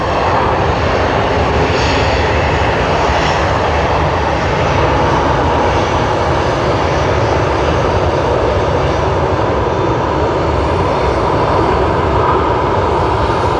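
Aircraft engines roar steadily at Sydney Airport, a loud sustained rumble with a broad hiss that holds for the whole stretch, with no voices over it.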